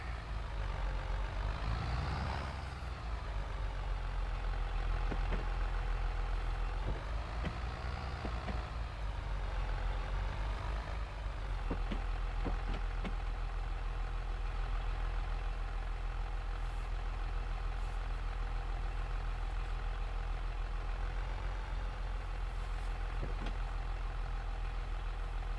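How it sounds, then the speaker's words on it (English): A tractor engine idles and revs in Farming Simulator 22, a steady low drone with a few rising surges and scattered clicks, with no talk. "Hopefully it's a big enough tractor."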